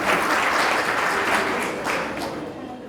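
Audience applause honouring women from manual scavenging communities, a dense, sustained wash of clapping from a gathered crowd that fades slightly toward the end.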